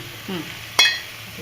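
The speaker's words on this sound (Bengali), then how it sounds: "ওই যে মাংস দিচ্ছি।" Chicken pieces, with no salt or turmeric rub, drop into a hot pan of lightly stirred vegetables for a chicken vegetable stew, giving a sudden loud sizzling burst that settles into a steady hiss, with no talking.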